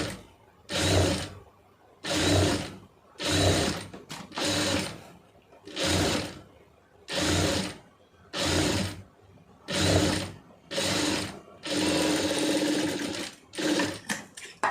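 A sewing machine stitching in repeated bursts of rapid mechanical clatter, about a second each with short pauses between, the last run slightly longer, loud and close with no speech.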